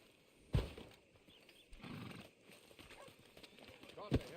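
Horse hooves clop at a walk with a couple of sharp louder steps, under people talking in a quiet outdoor setting, in the video game Red Dead Redemption 2.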